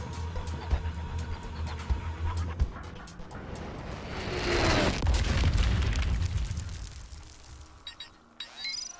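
A tank cannon blast rolls out in the Suicide Squad Kill the Justice League video game, a heavy booming explosion that swells and rumbles for several seconds amid game effects and clattering debris.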